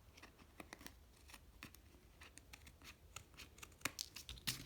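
Paper card being trimmed for a handmade bridge-fold greeting card, with a series of soft, quick crisp cuts and scratchy paper sounds, faint and close, with no talking.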